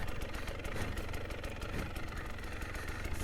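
A motorcycle engine running close by with a fairly steady mid-pitched drone and small throttle surges, continuous with no voices.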